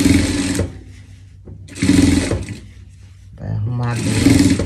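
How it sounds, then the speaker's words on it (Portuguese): A sewing machine stitches a seam to lightly gather fabric for a pet chef costume, running in three loud whirring bursts separated by quieter gaps where someone talks. "E vai passar uma costura pra gente dar uma leve franzida."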